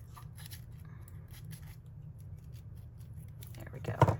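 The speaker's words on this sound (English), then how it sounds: "Let me trim up this edge." Scissors trim the edge of a paper page in a craft journal, a low steady background hum underneath and a short crisp snipping burst near the end.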